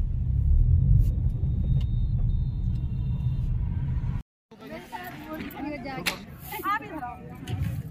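A black Mahindra Scorpio SUV rumbles as it is driven into a banquet hall, its engine loud and close over crowd chatter, then after a brief cut the scene turns to noisier hall sounds with voices.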